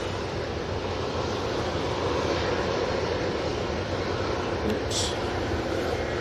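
A TUI airliner passes at Manchester Airport, its broad engine roar steady and loud throughout, with a brief spoken exclamation partway through.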